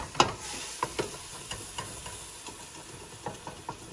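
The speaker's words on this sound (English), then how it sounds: "I'm scraping. I don't want to get any burnt stuff on the side of the pot." A metal spoon scrapes and stirs along the bottom of a cooking pot over lowered heat, with soft sizzling beneath; a string of sharp, irregular clinks and scrapes, close and moderately loud, no talking.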